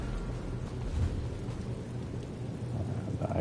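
Rain pours in Elder Scrolls Online while low rumbling thunder rolls underneath, a dense, continuous storm wash with no voices.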